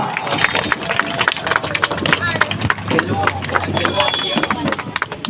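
An audience claps at a Kuchipudi dance event held before a Siddhi Vinayaka shrine: a dense, continuous patter of hand claps with crowd murmur and talking mixed in.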